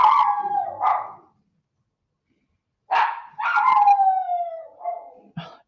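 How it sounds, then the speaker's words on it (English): A dog howls in several long, wavering calls separated by a pause, near and clear, with a short yip at the end and no talk. "She's learned that she knows how to howl."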